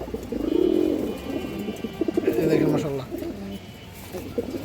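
A male Muslodom pigeon cooing, two soft, low, rolling coo phrases close by, with faint rustling and background noise between them and a voice faintly present.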